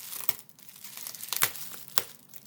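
A bubble mailer being handled, giving close, soft plastic crinkles with three sharper crackling bursts spread over a couple of seconds, and no talking.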